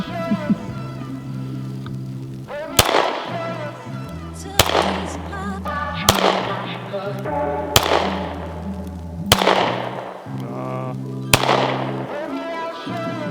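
Five sharp, loud Smith & Wesson CSX pistol shots ring out outdoors at a target on the ground, spaced a second or two apart, over a constant low hum and someone talking between them.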